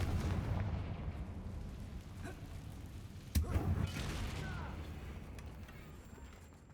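A Confringo blast spell goes off in the video game Hogwarts Legacy, a single sharp explosive boom midway through a low rumbling background with a voice in the game.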